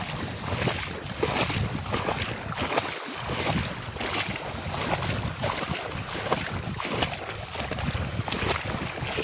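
Continuous splashing and sloshing of water from someone wading while fishing, with steady rustling noise, close and fairly loud throughout, with no talking.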